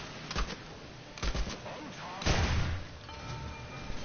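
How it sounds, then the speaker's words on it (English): Sherman tank ammunition cooking off in a tank video game: several sharp bursts and thuds, with the loudest rumbling blast partway through, over a steady background and a voice talking. "The ammunition keeps exploding"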